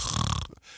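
A man imitates a normal snore with a short, raspy, rattling inhale that cuts off abruptly. The sound is close and fairly loud.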